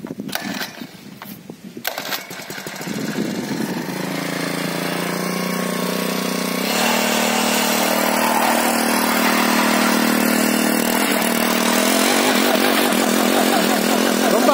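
An engine-powered single wheel weeder running in a field, starting with a few rough sputters and then settling into a loud, continuous, buzzing engine drone that rises and holds steady close by, no talk over it.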